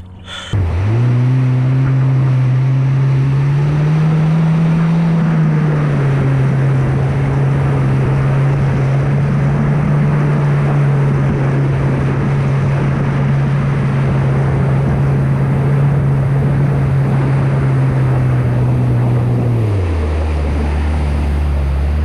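An SXR 160/1500 engine running under throttle gives a loud, steady low drone that rises briefly early on, holds for a long stretch with rushing background noise, then drops in pitch as the throttle eases.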